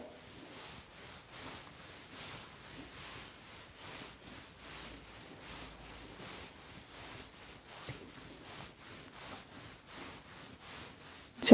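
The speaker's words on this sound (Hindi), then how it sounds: "चलिए रब करेंगे।" Hands rub over a person's body in an oil-free massage, making soft, regular back-and-forth friction strokes that repeat in a steady rhythm. The rubbing is quiet and close, with no talking.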